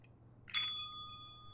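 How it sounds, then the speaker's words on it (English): A single bright bell ding struck once, sharp at the start and then ringing out in a clear sustained tone that slowly fades over a quiet low hum. "Harley deserves the bell, bro."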